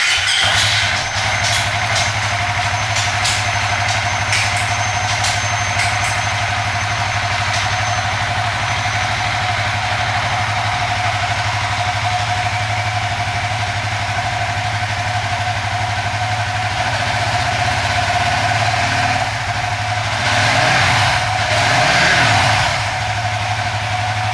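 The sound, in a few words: Suzuki FU 150 motorcycle engine idling while warming up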